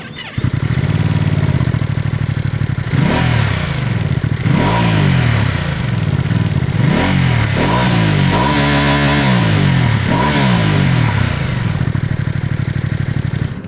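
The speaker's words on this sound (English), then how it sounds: "There's a nice amount of induction noise to make it satisfying when you get on the gas a bit." A Ducati Multistrada V2 S motorcycle engine revs repeatedly from idle, each blip rising and falling, with clear induction noise. It is loud and close, with about five or six quick throttle blips in a row and no voices.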